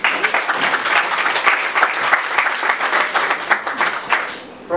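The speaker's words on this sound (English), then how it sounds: "If we want to clap, we'll clap till the morning." Audience applause after a university lecture in a hall, dense sustained clapping from a large crowd, loud and even, tapering slightly near the end.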